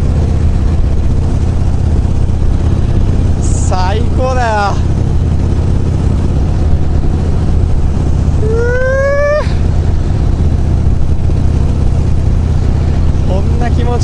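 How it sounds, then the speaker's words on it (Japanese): A motorcycle cruises along the Meihan National Highway on a Kinki touring trip, its steady engine drone mixed with rushing wind, while someone talks over it. "行きたいとこに向けて単車走らしてるよ"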